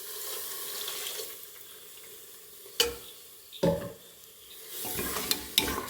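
Sago cooks in jaggery syrup for jackfruit seed payasam as it is stirred in a pot, with soft scraping and sloshing, a faint bubbling hiss and a few sharp clinks of the spoon against the vessel.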